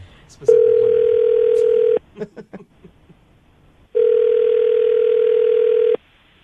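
Telephone ringback on an outgoing call, two long steady electronic tones separated by a pause, with brief faint sounds between them, clear and close.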